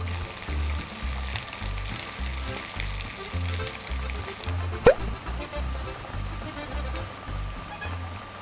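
Steady sizzling of eggs frying in sesame oil fills the clip, with a rhythmic low thumping underneath and a single sharp click partway through.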